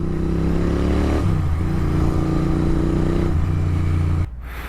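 648cc parallel twin air-cooled cafe racer motorcycle engine idling up close, a loud steady low throb with slight shifts in pitch, then the sound drops abruptly near the end.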